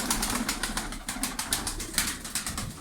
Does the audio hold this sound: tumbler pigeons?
yes